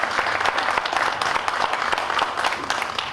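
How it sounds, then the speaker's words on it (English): Loud, dense applause from a college ceremony audience celebrating Hispanic Serving Institutions Week, many hands clapping in a continuous close wash that stays strong throughout. "Let's give a round of applause for that"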